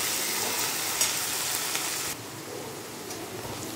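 Onions and ginger-garlic paste sizzle steadily in a hot pan for a bottle gourd curry, a dense, close frying hiss that drops a little softer partway through, with no voices.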